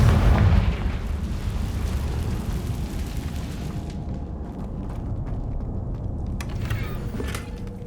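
A Confringo fire spell explodes in Hogwarts Legacy, opening with a loud, deep boom. The blast decays into a sustained rumbling roar, and faint crackles and pops are scattered over the tail.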